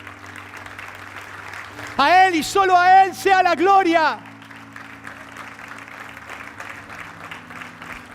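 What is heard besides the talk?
congregation applauding in church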